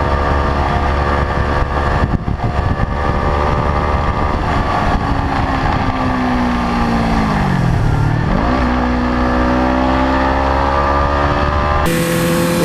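A sport motorcycle engine, a Ninja 300 or GSX-R 1000, drones loudly and steadily, its pitch dipping and rising as the rider shifts and revs.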